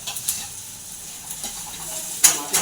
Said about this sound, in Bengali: মাছের তেলটা দিয়ে ভালো করে একটু ভেজে দেবো।